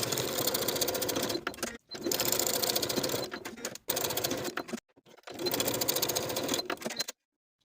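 Sewing machine stitching tee shirt seams, in four close, loud runs of rapid, even mechanical chatter separated by brief pauses before going quiet.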